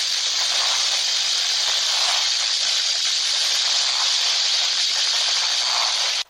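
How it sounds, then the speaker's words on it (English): The three-way four-way valve of a third-generation Volkswagen Audi EA888 engine makes an abnormal noise: a loud, continuous airy hiss, steady and close, lasting about six seconds before stopping abruptly. "Abnormal noise from the three-way four-way valve."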